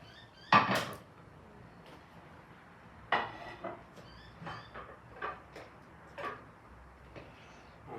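A yellow plate is taken out and handled in a kitchen while making an Italian vegetarian minestra, with a sharp clatter followed by softer knocks and taps of crockery, quiet and close.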